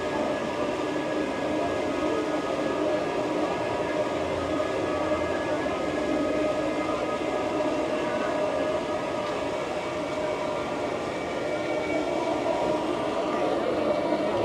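A continuous loud rumbling roar fills the air as the Expedition Everest roller coaster train runs at Disney's Animal Kingdom, a steady mechanical drone with a faint high whine over it.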